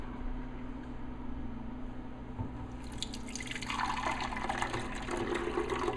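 Dark green vegetable juice from an Omega 8000 series slow juicer being strained, a steady close trickle and patter of liquid that grows brighter and splashier partway through.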